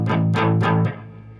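Distorted electric guitar power chords closing the verse of a song: three heavy, sustained strums in a steady rhythm, then a fourth cut short as the sound drops away. Loud and close, with no talking.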